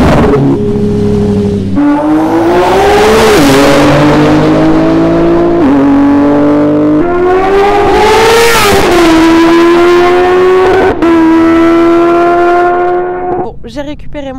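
A BMW S1000RR and a Yamaha R1 racing at full throttle, a loud, close engine wail climbing in pitch through several gear changes, each shift briefly dropping the note before it rises again, with brief chatter at the end.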